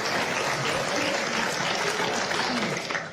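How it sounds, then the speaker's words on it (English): Steady applause from a TV talk show studio audience, a dense continuous clatter heard up close that tapers slightly at the end. "Thanks for the applause."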